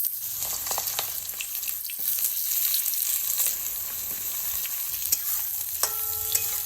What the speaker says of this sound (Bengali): এখানে কড়াইতে সর্ষের তেল দিয়ে দিলাম। এবার আমি বেগুনগুলোকে সবার প্রথমে ভেজে নেব।